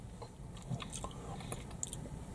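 Crunchy, crumbly McVitie's Tartlets biscuit bitten and chewed close up, a few soft crisp crunches over a quiet background, with no talking.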